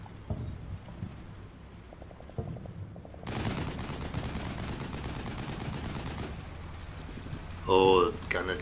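Rapid bursts of gunfire in a Cold War tank combat game, a dense run of shots in the middle and scattered reports elsewhere, with a player talking over the action.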